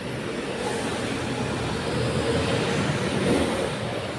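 Loud, steady rumbling engine noise of a garbage truck idling and revving nearby in Tengah, Singapore, a continuous heavy drone with slight swells.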